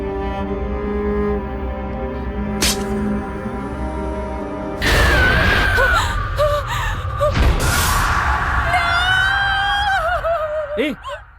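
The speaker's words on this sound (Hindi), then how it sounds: "चिल्ला क्यों रही हो?" A woman cries out in fright inside a bachelor's house, with a sharp gasp giving way to loud, wavering wails and yelps over a busy background of other noise, in a dramatic horror film scene.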